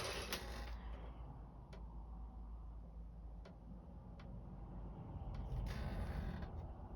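A knitting machine carriage knitting a single row at a loose tension setting, a steady mechanical creaking and rumbling glide with faint periodic ticks, close and fairly quiet, ending in a louder clatter as the carriage reaches the end.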